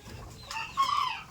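Full white Japanese bantam chicken on a poultry farm giving a short, soft cluck followed by a brief rising call, close and fairly quiet.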